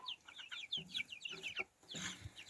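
Several chickens cluck and chatter close by in a farmyard flock of hens and a few roosters, with short rapid calls overlapping in quick bursts and brief pauses.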